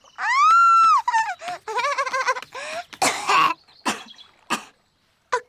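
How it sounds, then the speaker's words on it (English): Coughing in an animated cartoon, a string of harsh throat-clearing coughs and hacks with short gaps between them, close and loud. "And now, coughing."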